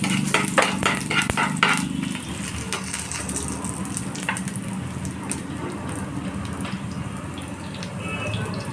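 Cumin, bay leaf, chopped green chilli, dried red chilli and garam masala frying in ghee for jeera rice, a steady close sizzle with a few sharp spatters and stirring scrapes early on, no talking.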